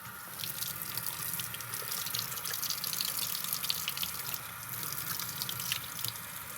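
Tap water runs and splashes steadily into a sink as a part etched in ferric chloride is rinsed, a close, continuous gush with small drip and spatter accents and no speech.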